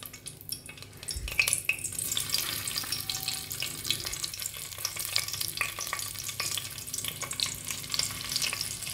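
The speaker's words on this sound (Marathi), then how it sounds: "तेलामध्ये चांगले फ्राय करायचे आहेत" Stuffed brinjals fry in hot oil in a pan, a steady crackling sizzle with scattered sharp pops and spatters, moderately close, beginning after a brief clatter.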